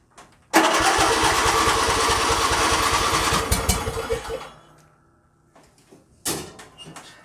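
John Deere L111 automatic riding mower engine cranking and catching, a loud rapid churning burst lasting several seconds before dying away, then a second short start attempt follows.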